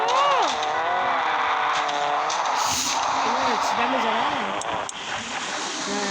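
In a car parking video game, a car engine hums steadily under continuous talk while tire skid sounds come and go.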